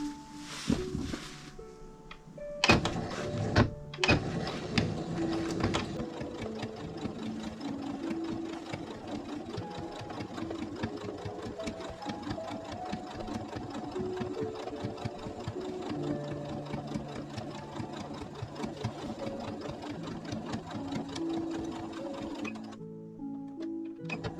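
A sewing machine runs the bottom seams of a tulip-style fabric bag, a steady, close mechanical whirr with a fast needle rhythm lasting about twenty seconds after a few short starts.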